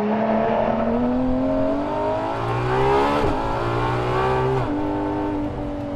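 A Ferrari LaFerrari's 963-horsepower engine revs hard on a race track, a loud continuous roar rising and falling through gear changes, close and alone with no voices.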